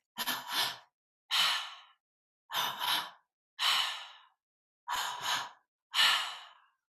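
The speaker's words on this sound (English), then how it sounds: "So it's belly, chest, release breath." Deep breathing exercise: six loud, close breaths alternate in a slow rhythm, each a drawn-in inhale into belly and chest and then a sighing release, with silence in between.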